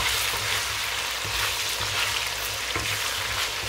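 Salted potatoes fry in a pan for a dry potato and bean dish, a dense, continuous hissing sizzle, loud and close, with a couple of faint stirring touches and no talking.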